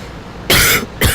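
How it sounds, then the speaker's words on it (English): Two harsh coughs close to the mic, the first longer and the second following after a brief pause, over faint background hiss. "Sorry about my cough"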